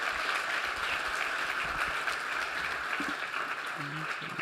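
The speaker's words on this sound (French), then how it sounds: "Merci d'applaudir aussi nos intervenants." Audience in a conference hall applauding the panel speakers after a discussion on AI, defence and sovereignty, a steady, sustained wash of clapping with a few faint voices murmuring underneath near the end.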